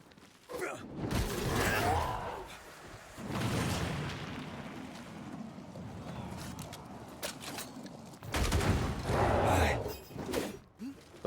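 Enemy gunfire in the video game Banishers: Ghosts of New Eden comes as several loud, rumbling blasts separated by quieter stretches of combat noise.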